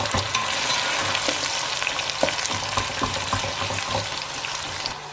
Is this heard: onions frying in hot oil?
yes